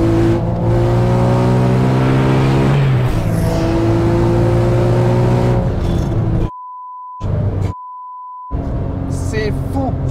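A 1,400-horsepower Porsche 9FF roars loudly as it accelerates, its engine note climbing through rising revs and gear changes. Two steady electronic bleep tones briefly cut out the sound before the engine returns.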